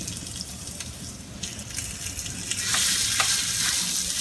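Potato latke mixture sizzles and crackles on a hot waffle iron, close and fairly loud. The frying hiss grows stronger in the second half, with sharp bursts of spitting.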